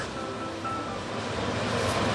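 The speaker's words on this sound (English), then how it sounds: "now is the time where we can actually add in the hot water." Hot water pours steadily into a pot for curry fish head, a continuous rushing splash with no talking.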